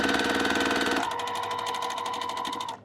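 A sewing machine stitches a quilt up close, a fast, rhythmic mechanical whir and clatter that changes pitch partway through and slows before stopping abruptly.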